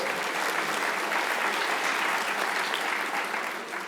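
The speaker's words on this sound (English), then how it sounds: "Let's give them all another round of applause." Sustained audience applause fills a large hall at a disability summit event, dense steady clapping from many hands throughout, fading slightly at the end.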